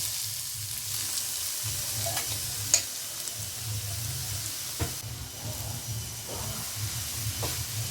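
Finely chopped carrots sizzle steadily in hot ghee over a low gas flame for gajar halwa, a constant frying hiss broken by occasional soft stirring scrapes, close and alone.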